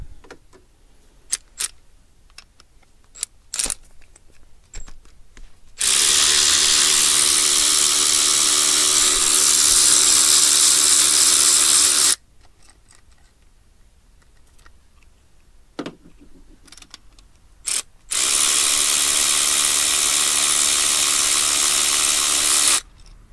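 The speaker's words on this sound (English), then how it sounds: "I'm just going to go ahead with my ratchet here, the electric ratchet, and get these off the rest of the way" An electric ratchet buzzes loudly in two long continuous runs, separated by quiet clicks and small handling taps, while backing out the cylinder head bolts on a 2011 Hyundai Elantra engine.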